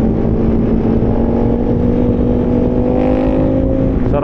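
A motorcycle engine drones loud and steady on a Friday night ride, its pitch holding then rising slightly as it accelerates, with a rushing wind-like noise throughout.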